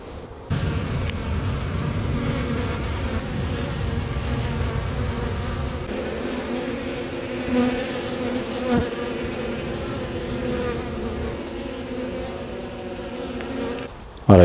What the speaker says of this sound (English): They're bees, they're smart.